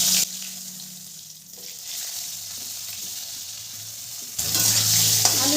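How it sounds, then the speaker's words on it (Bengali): Potato pieces sizzle and hiss steadily in hot oil in a pan, close and fairly loud, with stirring and a sharper burst of frying near the end. "আলুগুলো লাল করে ভেজে নেব।"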